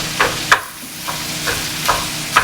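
Sausage gets stirred and broken up in a hot frying pan, several sharp scraping and tapping strokes at an uneven rhythm over a steady low sizzle, close and clear, with no talking.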